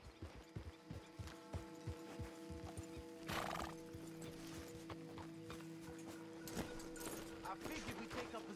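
Horse hooves clip-clopping in a steady rhythm in the video game Red Dead Redemption 2, then a loud neigh and snorting, continuing under quiet speech.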